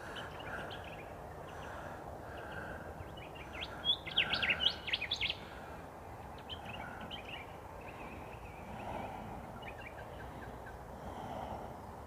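Various birds calling around an Australian camp, scattered faint chirps and whistles over steady outdoor ambience, with a brief louder burst of rapid calls partway through; no one speaks.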